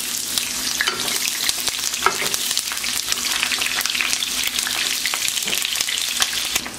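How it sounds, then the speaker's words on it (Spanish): Five garlic cloves and half a large onion frying in oil for mole, a dense, even, loud crackling sizzle running the whole time with faint stirring ticks and no talk. "Luego pondremos 5 ajos a freír, media cebolla grande"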